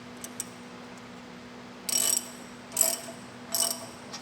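A ratchet tightening a bolt on a capture plate gives three short bursts of rapid clicking, close and distinct, separated by brief pauses over a low steady hum.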